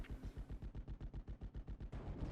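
Rapid machine gun fire in the WWII strategy game Steel Division: Normandy 44, a steady stream of about fifteen evenly spaced loud shots over roughly two seconds, with no talk.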